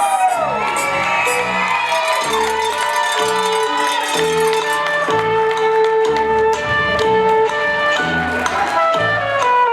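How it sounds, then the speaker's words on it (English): A dance competition audience claps and cheers for the contestants over loud music, with whoops and shouts rising from the crowd. "And give them a round of applause as you see your favorites."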